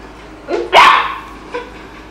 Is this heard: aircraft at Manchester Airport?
no